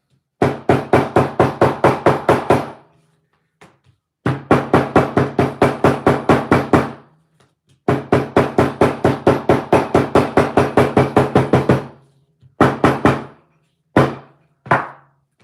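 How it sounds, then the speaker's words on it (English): Hammer pounding leather for a handbag: long runs of rapid, evenly spaced loud blows in three bursts, then a few shorter isolated strike clusters, close and without talk. "before I beat it to death with a hammer"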